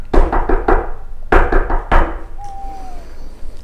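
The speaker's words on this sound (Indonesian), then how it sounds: "Ketukan kedua pun kembali terdengar." Knocking on a wooden door in two bursts, a quick series of three raps followed by two more heavy knocks, close and loud, with a faint thin tone trailing after.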